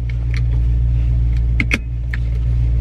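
Inside a moving car, a steady low road and engine hum fills the cabin, with a few light clicks and rustles near the middle; no one speaks.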